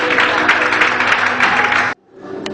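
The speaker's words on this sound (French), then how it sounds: "On acclame ceux qui viennent témoigner parce que c'est pas possible." A church congregation at a Sunday service applauding people who come forward to testify, dense clapping from many hands that cuts off abruptly near the end, leaving a quiet room.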